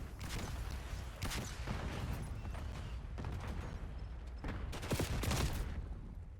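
Video game firefight with bursts of gunfire and thumping grenade and flashbang blasts, several sharp loud impacts spread through the stretch over a continuous rumble of combat noise.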